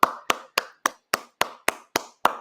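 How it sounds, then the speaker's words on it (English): Nine slow, evenly spaced hand claps, each sharp and loud, ringing close with a short decay, a single person applauding alone. "So I just gotta give a round of applause."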